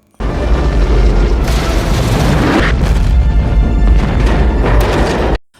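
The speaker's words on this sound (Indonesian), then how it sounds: "bom pun meledak." Bomb detonating in a tunnel by a river, a sustained loud rumbling blast with crashing debris that fills the clip for about five seconds before cutting off abruptly.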